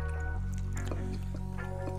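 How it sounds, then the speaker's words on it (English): Brine poured into a jar packed with onions, a steady liquid pour with soft drips and splashes running throughout, close and fairly loud. "And then simply just pour that brine on,"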